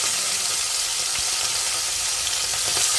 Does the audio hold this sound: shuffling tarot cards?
no